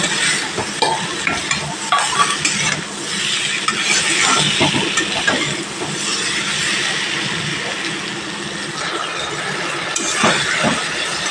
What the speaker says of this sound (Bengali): আলু আর ফুলকপি দিয়ে এর সঙ্গে 2 মিনিট মতো কষিয়ে নেব।